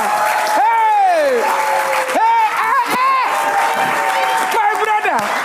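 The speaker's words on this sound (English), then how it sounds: "Please clap hand for Deyemi Okanlawon." An audience claps and cheers for actor Deyemi Okanlawon, with loud shouted whoops and voices rising over steady applause throughout.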